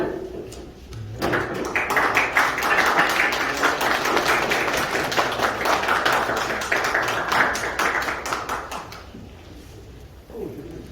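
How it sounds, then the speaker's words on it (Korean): An audience at a mayoral candidate's press conference applauds as the candidate comes forward, a steady, dense burst of clapping lasting around eight seconds before it fades, with no talk over it. "김석호 후보님이 나오실 때 박수 좀 쳐주십시오."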